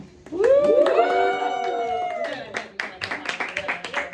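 Applause at a Spanish philosophy and psychoanalysis panel discussion on the criminal mind, a crowd clapping loudly and steadily, with speech over it at the start, then dying away into scattered claps.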